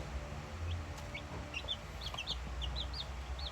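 Three four-day-old McLean and white chocolate gamefowl chicks peep faintly, with a scattering of short, high, rising chirps over a quiet, low background hum.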